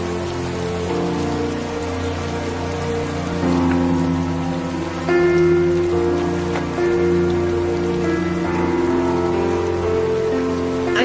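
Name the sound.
rain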